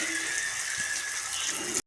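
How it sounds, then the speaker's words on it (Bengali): Water pours in a short, steady gush into a shankar (stingray) fish curry in a clay pan, ending abruptly. "দিয়ে এখন জলটা ঢেলে দেবো।"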